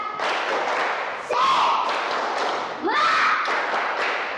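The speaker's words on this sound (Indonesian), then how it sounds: "Tepuk semangat." A classroom of children doing a rhythmic spirit clap, loud group clapping mixed with chanted voices in repeated bursts, each phrase rising then trailing off, close and full.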